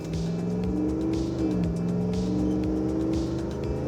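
Engine of a 2016 Chevrolet Silverado Dirt King pre-runner truck revs up and down while driving. The drone is loud and steady with shifting pitch, with no talking over it.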